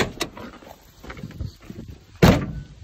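A car door on a 2004 Mustang with a 3.9L V6 slams shut once, a loud close thud near the end after quieter handling noises around the parked car.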